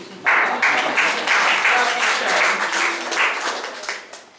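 Sustained audience applause at a Hindi comic poetry recitation, a dense crowd of clapping that starts abruptly, holds steady for about four seconds, then fades away.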